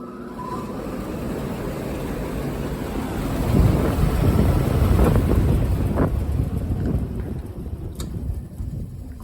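A 2014 Maratherm air conditioner starting up and running, a loud broadband rumbling roar that swells in the middle and holds steady, heavy and close, with no talking.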